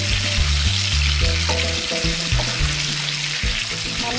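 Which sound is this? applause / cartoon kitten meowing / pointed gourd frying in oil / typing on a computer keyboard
pointed gourd frying in oil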